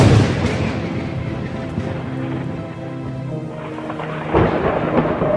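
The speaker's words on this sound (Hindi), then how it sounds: "देखा, बहुत तगड़ा तूफान आ रहा है।" A strong storm with thunder, wind and rain: a loud rumbling roll of thunder over steady rain hiss and gusting wind, with a fresh crack of thunder near the end.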